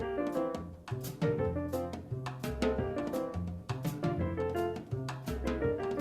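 A jazz record plays with a Latin feel, cymbals and drums driving steadily under piano and horn lines, busy and continuous throughout.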